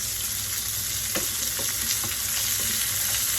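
Pistachios, almonds and dry dates sautéing in a pan for sheer khurma give a steady, close frying sizzle with a few soft stirring clicks and scrapes, and nobody speaks.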